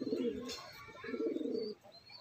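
A young pet pigeon with a one-eye cold gives soft, low cooing calls in two short bursts close by, with no voices.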